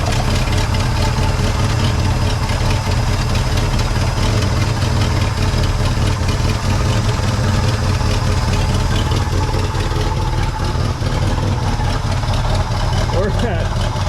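A 1963 Pontiac Catalina V8 idles at low RPM, a loud, close, steady rumble that runs throughout while people talk over it.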